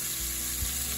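Food browning in a hot pan with a steady, even sizzle that stays close and fairly loud throughout, with only small flickers of crackle and no voices.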